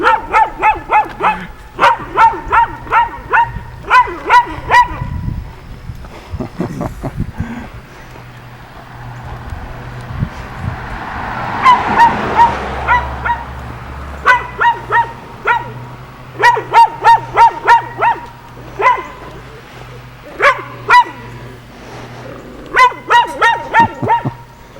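A dog barks repeatedly in quick bursts outdoors beside a road in a New Hampshire town, with pauses between volleys and a low passing-car rumble in the middle.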